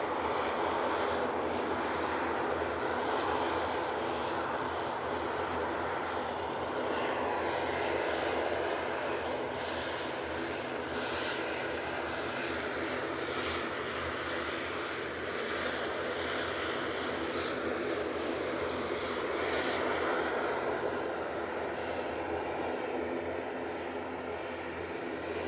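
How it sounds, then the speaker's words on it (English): A TUI airliner rolling for departure to Paphos at Manchester Airport, a continuous loud engine roar holding steady without speech. "this TUI 73 is lined up. It should be next to go out. It's off to Paphos."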